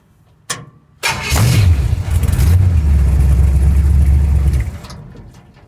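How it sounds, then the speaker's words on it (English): Small-block Chevy 350 V8 in a rat rod cranks briefly, then catches and runs at a loud, steady idle close by, with a short burst of revving as it fires. "let's start it up and see what the gauges are doing"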